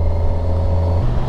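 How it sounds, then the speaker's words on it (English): A 2021 Kawasaki Versys 1000 LT SE+ adventure-touring motorcycle on the road makes a loud, close, steady low engine and intake drone, with a slight shift in pitch near the end and no voices. "You can see the bike has like a nice induction noise"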